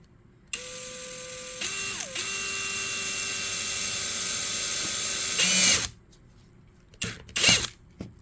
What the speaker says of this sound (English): I'm going to go ahead and drill a hole.